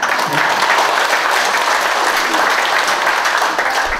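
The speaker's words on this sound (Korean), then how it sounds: "박수 좀 부탁드릴게요." A Uiseong Kim clan gathering in Cheongsong County fills with loud, dense audience applause, a thick unbroken wash of many hands clapping for four seconds with no voice rising above it.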